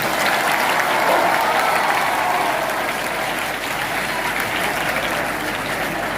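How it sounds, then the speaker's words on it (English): Students at a 2022 mock parliament applaud together, a loud, continuous wash of many hands clapping that holds steady for several seconds without any talk. "One big clap to all of you."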